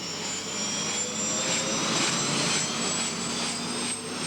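A firefighting helicopter flies out to battle forest fires, its engine and rotor making a steady, loud, continuous roar that swells slightly midway and holds throughout without any voices.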